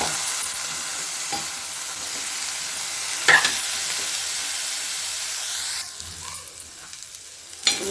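Chopped potato pieces fry and are stirred in a pan for a tomato curry, giving a constant close hiss and sizzle broken by a few scraping stirs. The sizzle briefly drops in tone near the end. No voices.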